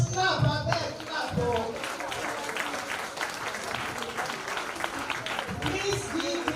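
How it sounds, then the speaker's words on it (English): Audience applause at an International Women's Day event, a dense, sustained crowd clapping that runs steadily throughout with cheering voices mixed in. "Please give this lady a big, beautiful round of applause."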